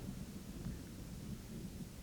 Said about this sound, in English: Oh, look, it's starting to rain.